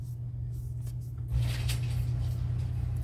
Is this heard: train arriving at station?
no